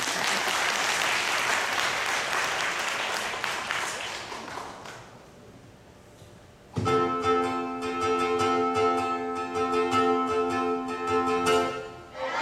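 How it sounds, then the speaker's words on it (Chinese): An audience at an elementary school's thank-you concert applauds in a dense, steady patter of many hands that fades after several seconds, then gives way to sustained musical tones from instruments starting abruptly. "掌声鼓励"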